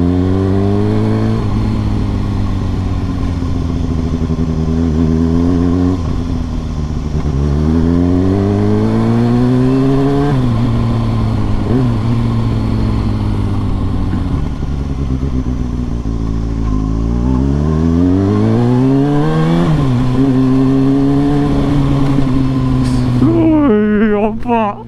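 A Kawasaki ZX-6R superbike's engine revs loud and close while being ridden, its pitch climbing and dropping in repeated surges through the gears, with a rider's voice occasionally over it.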